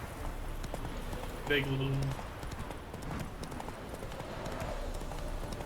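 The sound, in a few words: horse hooves riding over terrain in The Witcher 3 video game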